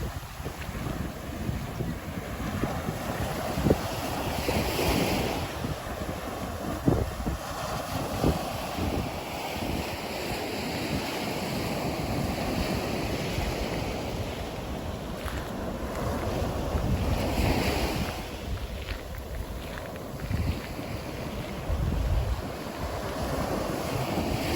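Ocean waves wash steadily onto South Marco Beach after a hurricane, with surf rising and falling in broad swells mixed with heavy wind buffeting the microphone, and no voices.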